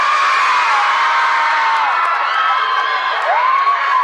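A large crowd of single fans at a meet-and-greet event shouts, whoops and cheers together in a loud, continuous roar that fills the room with overlapping high-pitched voices.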